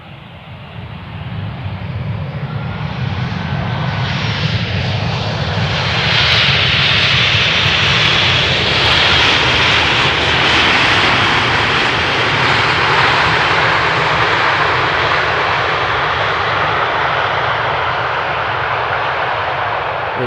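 An airliner landing on runway 18R at Amsterdam Schiphol roars past at high speed, a loud, broad engine rush that swells, holds for many seconds and then slowly eases, with no talk.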